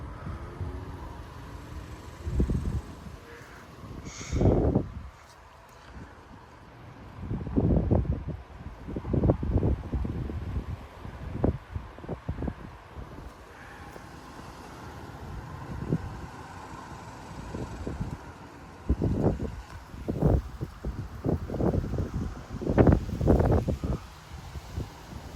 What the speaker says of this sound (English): the wind picks up like crazy.